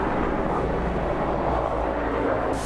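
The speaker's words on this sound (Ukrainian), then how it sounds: "Ну, це вертольоти, це ще не дуже голосно." Military helicopters fly overhead with a steady, loud, continuous rotor and engine roar that fills the whole stretch without pause, with no speech heard.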